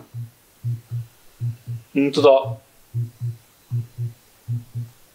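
Heartbeat from the video game It Takes Two: deep, steady lub-dub double thumps repeat evenly throughout, with a brief voice speaking over them in the middle.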